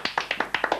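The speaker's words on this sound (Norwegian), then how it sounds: "Applaus til deg." A studio audience claps in quick, close, sharp bursts, roughly eight distinct claps within under a second, with no voices.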